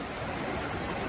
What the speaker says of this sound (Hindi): यहाँ वो वाटरफॉल का पानी यहाँ तक फ्लो हो रहा है